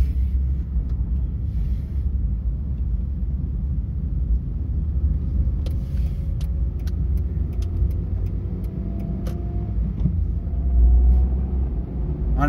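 A car running on ethanol without a conversion box pulls hard after a shift into second gear, its engine a steady low rumble whose tone climbs toward the end, with a few light clicks over it.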